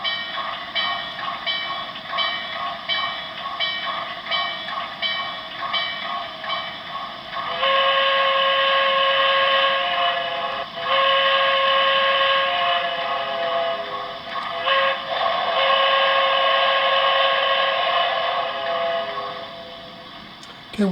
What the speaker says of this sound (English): crank up the bell and the whistle